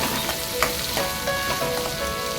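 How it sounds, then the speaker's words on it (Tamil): Steady crackling sizzle of large onions and curry leaves frying in hot oil, continuous and close, with a few brief louder pops; no voices. "பெரிய வெங்காயம் கருவேப்பிலையும் சேர்த்து நல்லா வதக்கி விட்டுக்கலாம்"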